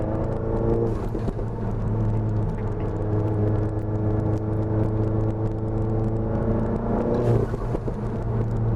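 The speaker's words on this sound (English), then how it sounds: "A little bit of turbo squealing or whatever the heck you want to call it. Compression surge." A Volkswagen Golf GTI Mk7 engine with an APR Stage 2 tune rumbles and whirs steadily up close, with a higher rising whine near the end from turbo compressor surge.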